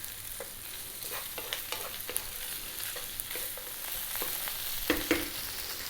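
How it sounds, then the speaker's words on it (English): Scooped-out potato filling fries in a pan under frequent stirring, a low sizzle broken by repeated sharp spatula scrapes and taps, with a couple of louder clacks near the end. "Stirring this in, cooking it away."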